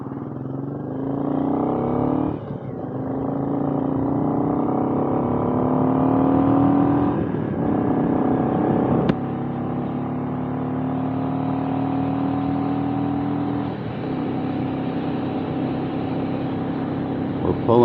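A Royal Enfield Classic 350 single-cylinder motorcycle rides along a road, its engine thumping in a steady drone that rises and falls with throttle changes, loud and close throughout, with someone talking over it.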